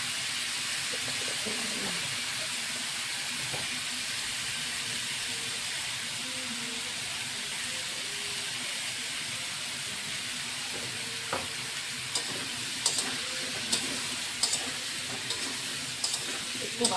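Chunks of pumpkin and potato fry in hot oil with salt added, giving a continuous moderate sizzle. Sharper scraping clicks from stirring break in repeatedly near the end.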